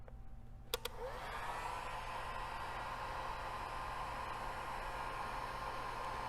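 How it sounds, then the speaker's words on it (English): A heat gun shrinks heat shrink tubing, switching on with a couple of clicks and then blowing a steady, fairly quiet whooshing hiss with a faint motor whine. "use my heat gun to shrink the heat shrink tubing"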